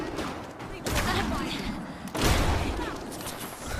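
Bursts of rifle gunfire in the Fallout 4 video game, two loud rolling volleys of rapid shots with heavy booming tails, close and dense.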